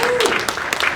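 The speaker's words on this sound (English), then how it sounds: "Can we give Kevin a round of applause?" Audience applause at a real estate networking event as a panel begins, a brief burst of clapping heard close and fairly loud, with a voice briefly over it.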